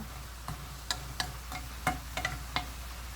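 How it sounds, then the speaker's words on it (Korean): Chopped onion, scallions and chili are lightly mixed into steamed zucchini with salted shrimp in a pan, making a series of soft clicks and taps of a utensil against the pan over a faint sizzling background, spaced irregularly and quiet. "그럼 살짝 섞어줍니다."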